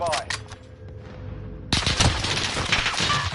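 Sniper rifle shots in a video game sniping match, a sharp close report at the start and another loud crack near the middle, each followed by echoing game noise and ambient battle sounds, with a voice talking over it.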